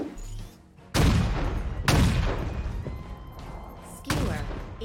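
Sniper rifle shots in Halo Infinite, three loud, sharp reports roughly a second or two apart, each followed by a ringing tail, over a faint game background.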